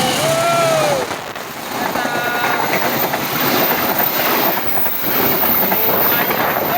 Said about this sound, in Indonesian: Lihat keretanya lewat teman-teman.